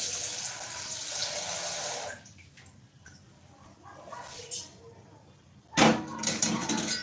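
Hot water being poured, apparently into a cup for gargling, in a home setting: a steady pouring splash for about two seconds, then quieter handling sounds and a brief renewed splash near the end.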